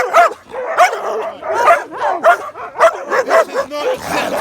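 Dog barking in a rapid, loud, repeated run of close barks with some yips and whimpers mixed in, outdoors during a confrontation on a walk with rescue dogs, including a Romanian Mioritic shepherd.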